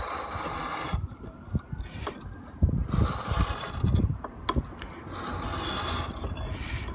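A chisel being sharpened by hand with a file, giving rough rasping strokes in irregular bursts with some clatter, close and fairly loud, with no talking.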